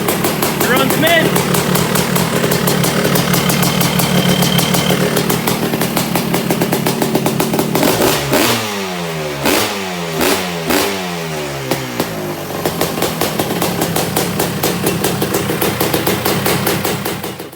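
A 1988 Honda TRX250R ATV with a 2002 CR250R ignition upgrade idles with a loud, buzzy two-stroke rattle, then revs in several sharp bursts before settling back to a steady run, up close.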